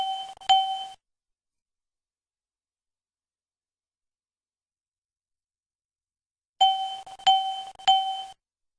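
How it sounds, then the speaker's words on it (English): The master warning system on a BAe 146-300/Avro RJ airliner sounds its triple chime, a crisp electronic ding-ding-ding, heard once near the start and again after a long silence, loud and alone. "The master warning system audio triple chime should sound every 5 seconds."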